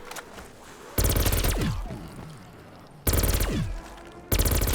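Bursts of rapid automatic fire from an upgraded Pack-a-Punch gun in a zombies shooter, loud and close, come in three separate volleys with quieter ringing gaps between them.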